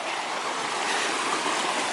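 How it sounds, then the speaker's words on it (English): A mountain waterfall on the Pacific Crest Trail plunges into a swirling pool, producing a steady, loud, broadband roar of rushing water with no talking. "You can see the waterfalls coming from way up."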